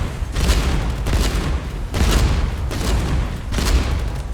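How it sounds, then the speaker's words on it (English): Ship cannons in the naval game Age of Water fire together in heavy booming volleys, three or four broad blasts roughly a second and a half apart over a continuous low rumble, loud and close with no talk. "I'm trying to set all of my cannons at the same time to maximize my damage output"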